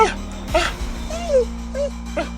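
A dog whimpers with short, high, wavering whines over a steady electrical hum, close by.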